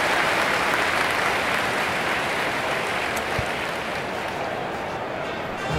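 A crowd claps and cheers in dense, steady applause that holds loud throughout, serving as a celebration in a marble run hammer tournament.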